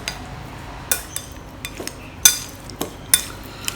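Raw shrimp are mixed with salt and white pepper in a bowl, a utensil giving scattered, close clinks and scrapes against the bowl, with irregular sharp taps and no talk.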